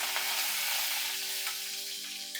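A dried red chilli and washed curry leaves fry in tempering oil, giving a soft, steady sizzle with faint crackles over a low hum.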